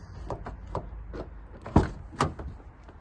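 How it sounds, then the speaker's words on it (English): A 2019 Mazda MX-5 2.0 Skyactiv-G Sport Nav+ unlocking its driver's door by keyless entry button, a few close mechanical clicks and thunks, with one sharper clunk near the middle and another soon after. "you press this button and it will unlock the vehicle for you"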